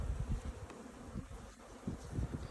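Honeybees buzz inside a hive during an inspection, a close, wavering drone with pulsing swells as individual bees pass near, heard alone without talk.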